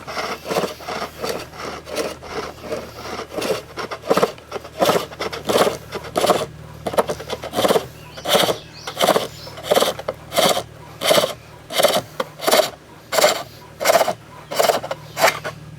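A turning tool scrapes a spinning wooden bowl on a lathe, producing repeated rasping strokes in a fairly regular rhythm over a low motor hum, close and moderately loud.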